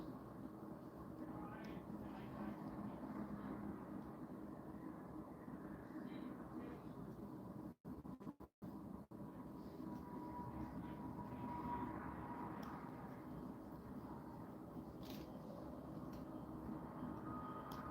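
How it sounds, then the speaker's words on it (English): A faraway train carries to a home as a low, steady rumble that stays faint and continuous in the background, with a brief dropout in the middle. "that train is like so far away from me, but if the wind's blowing just right and whatever, you can hear it like it's in my backyard practically"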